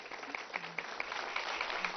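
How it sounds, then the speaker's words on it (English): An audience at a school board meeting claps steadily, producing a thin, continuous patter of applause that sounds somewhat distant. "let's give a round of applause to all of our applicants."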